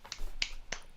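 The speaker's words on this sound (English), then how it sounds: "I'm gonna clap not too close to the mic" Three sharp, separate hand claps ring out one after another, close and crisp against a quiet room.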